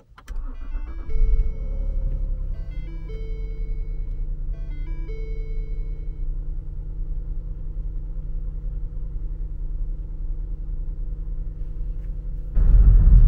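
A 2010 Lincoln MKS engine cranks and catches with a quick whir, then settles into a steady, close, low idle rumble, with a few soft chimes early on and a louder surge of rumble at the very end.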